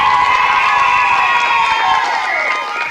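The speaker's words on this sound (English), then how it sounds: "Nice round of applause, please" Game-show studio audience cheering and clapping after a final round, a loud dense roar with whoops and shouts that holds steady and then eases slightly toward the end.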